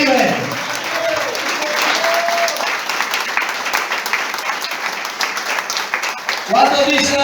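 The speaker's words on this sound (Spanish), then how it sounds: "Aplauda que vive." A church congregation breaks into loud, sustained applause that holds steady for several seconds, with voices mixed into the clapping near the end.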